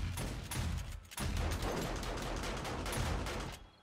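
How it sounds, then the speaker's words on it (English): Automated turrets blasting at a zombie horde during an insane-mode horde night in a video game: dense, rapid bursts of gunfire rattle almost continuously, with one brief gap. "my turrets are doing a stupendous job"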